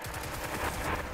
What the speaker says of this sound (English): Shoot it, shoot, shoot.